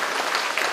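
Audience applause at an opening ceremony for a regional mental health center, a short dense burst of steady clapping without talk.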